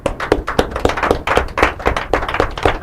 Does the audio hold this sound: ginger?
no